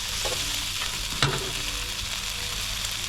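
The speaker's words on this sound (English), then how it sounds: "Now we're gonna crack the egg" Rice noodles for Pad See Ew fry in a wok during a Chiang Mai cooking lesson, a steady sizzle with stirring, plus a brief sharp crack and splash as an egg hits the hot pan partway through.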